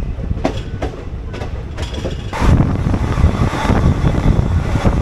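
A passenger train rolls into Modinagar station, its wheels clicking rhythmically over rail joints, then a louder, denser rumble swells as the carriages pass close by.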